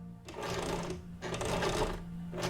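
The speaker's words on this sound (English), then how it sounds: "I'm going to sew backwards right away." A sewing machine stitches in reverse in two close, whirring bursts separated by a short pause, with a steady motor hum underneath.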